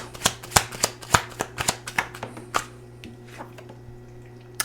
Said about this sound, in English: Let's grab one more card from here.